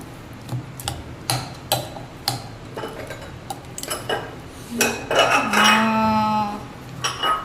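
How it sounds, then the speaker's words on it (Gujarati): Spoon scraping and clinking against a bowl while Maggi bhel is stirred and mixed at home, irregular close metallic clicks and scrapes, with a short tonal squeak or cry rising near the end. "મસ્ત આવી રીતે હલાઈને બધું મિક્સ કરી લેવાનું"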